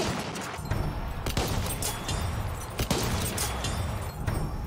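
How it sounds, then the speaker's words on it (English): Machine gun fire in Battlefield 1, a World War I shooter video game: a busy battlefield bed of distant automatic fire, with a few sharper nearer shots cutting through, loud throughout. "Пулемет."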